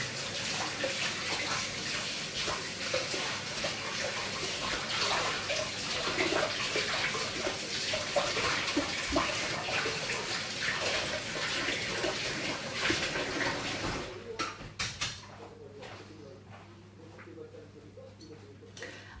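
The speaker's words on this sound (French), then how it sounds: "Je vais peut-être rincer mon fouet pour pouvoir mélanger correctement" A whisk is rinsed under running tap water in a kitchen, a steady close gush that stops near the end, leaving faint taps and background hum.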